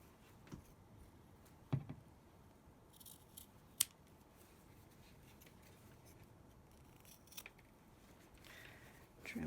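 Scissors trimming fabric corners for a face mask, a few faint, sharp snips scattered over quiet room tone, close but soft.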